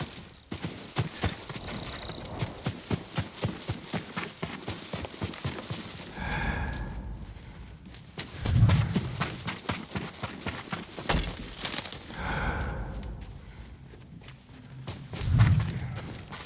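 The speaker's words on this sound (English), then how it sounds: "Yuriko's horse." Yuriko's horse in the Ghost of Tsushima game: steady clip-clop hoofbeats plod along, broken by two snorting exhales with low thuds, all fairly close and without talk.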